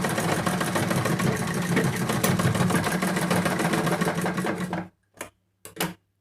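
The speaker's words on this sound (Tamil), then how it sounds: "இந்த மாதிரி நம்ம வந்து தையல் போட்டாச்சு." A sewing machine stitches elastic into a fabric hair band, running in a fast, even, rattling burst for several seconds before stopping, then two short final bursts of stitching.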